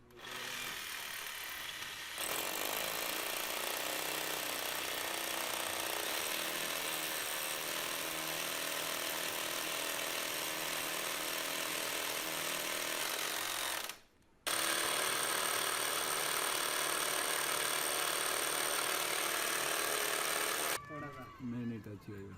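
A power drill bores through a wall to make a hole for a ductless mini-split air conditioner, grinding loudly and continuously nearby, stopping briefly partway and then resuming before cutting off near the end.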